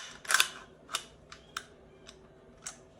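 An AR rifle bolt on a 3.5-inch micro buffer tube is racked back, giving a quick cluster of sharp metallic clicks followed by a few isolated light clacks, faint and close with no talk.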